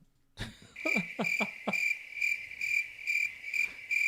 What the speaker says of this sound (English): I extended the hand to him today again, and crickets.